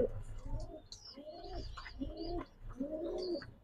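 White Damascene pigeons at a pigeon farm give four repeated, close-up rolling coos in a steady rhythm, with faint chirps in the background.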